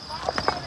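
Hooves of a horse carrying a rider on a trail near Baisaran valley, Pahalgam, Kashmir, clip-clop in a few quick, fairly close knocks under people talking.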